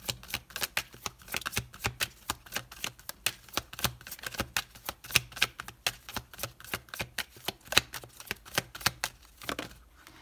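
A deck of haiku oracle cards being shuffled, with rapid, steady riffling snaps close by that run for about ten seconds with no voices.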